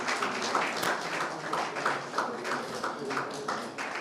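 An audience applauds steadily for several seconds, a moderately quiet, even patter of many hands with some louder single claps, heard from a distance.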